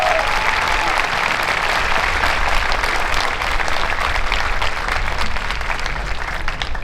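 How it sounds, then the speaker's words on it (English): A large crowd at a Marine Corps recruit training family day for Charlie Company claps steadily, a dense, even wash of applause that stays loud from start to finish without a break. "I need for all of you to give yourselves a round of applause today."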